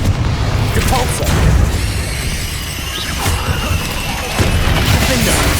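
A Depulso force-push spell is cast during Hogwarts Legacy combat, landing as loud booming, crashing blasts over a dense, continuous rumble of battle effects.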